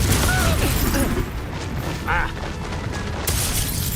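A Confringo fire spell in Hogwarts Legacy goes off as a fiery burst with a booming pop amid clattering, mechanical in-game noise, fairly loud and close.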